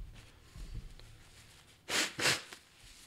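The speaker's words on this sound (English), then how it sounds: "And so then now I blow my nose again." Two quick, forceful bursts of air through the nose during sinus irrigation, close up, following a quiet stretch with faint background rumble.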